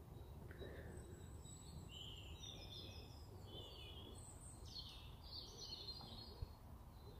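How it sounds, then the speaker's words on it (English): Birds sing along the river Thames, several thin high chirps and warbling phrases rising faintly above a quiet background hum. "You hear all those birds?"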